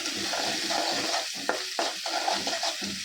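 Chopped tomato fries in a pan, a continuous sizzle broken by a few sharp spatula taps and stirring scrapes, close by.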